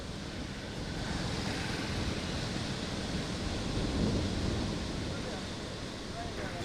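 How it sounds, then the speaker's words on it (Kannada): Flood water pours over the Siddeshwara barrage on the Ghataprabha river, a dense, steady roar of rushing water with no breaks, loud and enveloping throughout the clip. "ಅದರ ತುಂಬ ಈಗ ನೀರು ಹರಿತಾ ಇದೆ"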